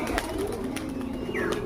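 Pigeons cooing close by, a few soft low rolling coos spread across the moment, with faint background noise and no talking.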